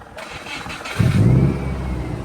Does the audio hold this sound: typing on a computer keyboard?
no